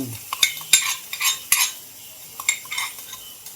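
Onions fry in a pan while a metal utensil stirs and clinks against it, producing short scrapes and taps over a light sizzle, close by.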